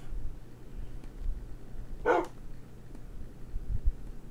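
A dog in the video game Minecraft gives a single short bark midway through, heard alone over faint low background rumble.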